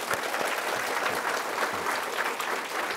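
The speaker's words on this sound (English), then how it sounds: "give me one quick round of applause for the wildlife in our country" Audience applause in a school celebration honoring wildlife conservation, a steady dense wash of many hands clapping at even loudness throughout, with no voices over it.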